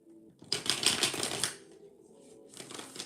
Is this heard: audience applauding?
no